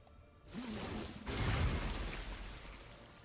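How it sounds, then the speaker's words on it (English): A rain stick in Baldur's Gate 3 conjures a rain spell: a soft whoosh rises, then a louder rushing surge gives way to a steady hiss of falling rain that slowly fades. "I have a stick that makes rain."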